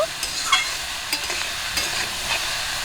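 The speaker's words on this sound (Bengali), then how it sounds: "কচুগুলো আমি এইরকম করে ভালো করে নাড়াচাড়া করে ভেজে নেব" Colocasia stolons with turmeric and salt sizzle softly in a wok as a spatula stirs and scrapes them repeatedly, a close, continuous frying hiss broken by light scraping strokes.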